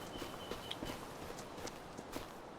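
Horse hooves clip-clop at a steady walking pace in the farming video game Farming Simulator 25, soft repeated hoofbeats over a constant background wash.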